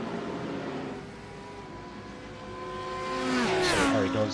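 Race cars in a GTD series round at the Nürburgring pass the start-finish line, engines droning steadily then rising into a loud, close pass with a sharp falling whine as they go by.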